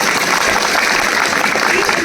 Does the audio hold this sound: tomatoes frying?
no